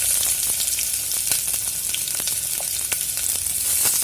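Onions fry in a pan with a dense, continuous sizzle dotted with sharp pops and crackles, close and steady, with no voices.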